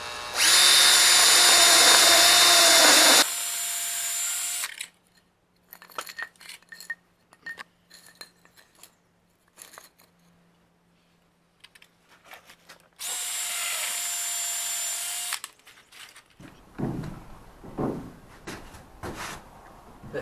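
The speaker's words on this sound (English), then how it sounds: "we're using quite a soft wood, so you're going to be best putting a pilot drill in" Power drill boring a pilot hole into soft wood during a campervan skylight fitting, two loud sustained whirring bursts separated by quieter handling clicks and knocks, with low rustling afterwards.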